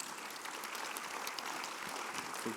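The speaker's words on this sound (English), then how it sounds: "please give them a warm welcome applause" Faint applause from a crowd, a soft, even patter of clapping heard from a distance.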